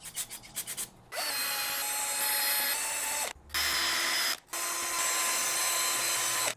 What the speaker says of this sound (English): hit them with a little bit of brake clean and then kind of a finer wire wheel